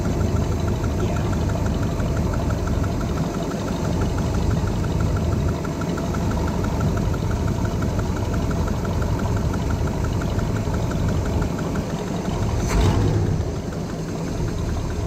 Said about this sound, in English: We've actually got our carburetor back on. We turned down the idle.